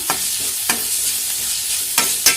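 Tapioca bonda filling is sautéed and stirred in a pan over a low flame, giving a steady soft sizzle broken by a few sharp scraping clicks of the spoon against the pan.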